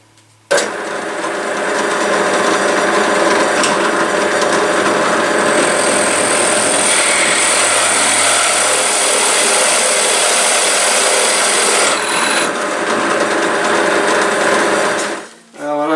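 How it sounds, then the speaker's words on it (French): A power drill bores a hole through a cherry wood bedside shelf, a steady high whine running loud and continuous for most of the span, then stopping abruptly near the end. "Maintenant, je vais faire le trou sur l'étagère,"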